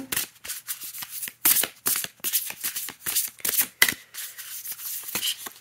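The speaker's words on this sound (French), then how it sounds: "on va faire un petit tirage en 3 cartes" Matte oracle cards being shuffled by hand for a three-card draw, a close run of short crisp riffling bursts and soft rubbing swishes with brief pauses between them, with no talking.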